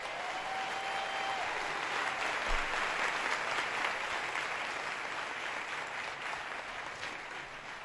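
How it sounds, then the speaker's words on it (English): An indoor audience at a Dr Martin Luther King event gives sustained applause, a dense, even clapping that holds steady for the full stretch and fades slightly at the end, with no speech. "Let's give them a round of applause."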